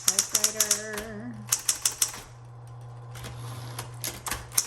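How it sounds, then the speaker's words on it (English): A 1970s Smith Corona Electra 110 electric typewriter clacks in quick bursts of keystrokes, with a steady motor hum underneath and a few brief pauses. A voice is heard faintly beneath the typing. "this is a marvelous typewriter"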